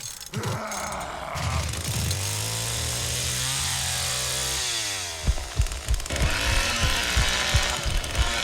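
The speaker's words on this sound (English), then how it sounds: "I started my chainsaw" A chainsaw in the video game The Texas Chainsaw Massacre revs into a sustained, rising engine whine, then breaks into choppy, sputtering bursts and clatter, close and loud.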